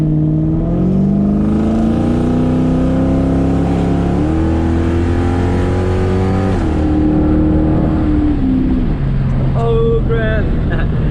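Ford Mustang of the 1999-2004 New Edge body style, fitted with a stall converter and shift kit, accelerating hard from inside the car, its loud engine note climbing through several gear changes before easing off.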